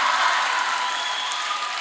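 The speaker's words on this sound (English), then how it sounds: "Give her a big applause. Once more." An audience at a model UN event applauds after a band's performance, a dense, continuous clapping that stays loud and even before tapering slightly, with no voices over it.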